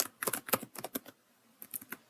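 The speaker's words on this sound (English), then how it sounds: "I'm just typing anything." Quick bursts of keystrokes on a computer keyboard, close and fairly quiet, in two clusters of rapid clicks separated by a short pause.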